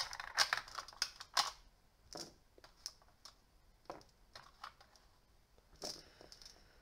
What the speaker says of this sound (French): Allez, sortez de là les dés.